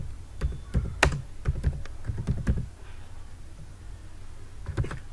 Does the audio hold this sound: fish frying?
no